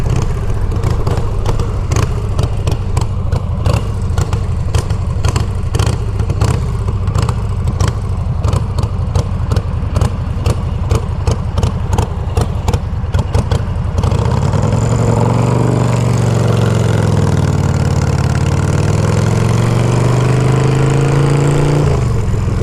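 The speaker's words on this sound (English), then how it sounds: "If you're impressed with how well I'm riding this bike, I am also impressed." A 2007 custom bobber motorcycle engine runs steadily and loud while riding, with rapid rhythmic pulses for the first stretch, then a smoother rising and falling drone as the revs change.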